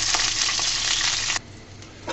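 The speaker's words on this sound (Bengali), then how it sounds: "কাঁচামরিচগুলো দিয়ে সুন্দর মতো ভেজে নেব" Green chillies with broken tips fry in hot oil in a loud, bright, close sizzle that drops suddenly to a quieter crackle partway through, with a brief stir near the end.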